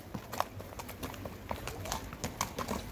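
A fast, well-shod horse being readied for ulak (kok-boru) clip-clops with a quick, uneven rhythm of close hoofbeats, the strikes sharp and distinct with no voices over them.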